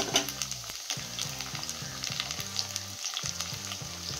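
Tomatoes frying with browned onions in a pan over lowered gas heat, a steady close sizzle with crackling spatters and some stirring, no voices.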